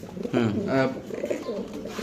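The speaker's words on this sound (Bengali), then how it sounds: "এই হলো সেই কবুতরটা মাদি কবুতর না ভাই সরি নর কবুতর" A male fancy pigeon of a Belgian breed coos in low, throaty rolling phrases, close and clear, while someone talks over and between the calls.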